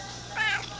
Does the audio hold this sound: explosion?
no